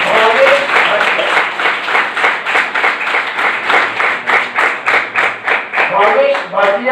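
A workshop audience bursts into loud, close applause, settling into steady rhythmic clapping in unison with sharp, evenly spaced claps.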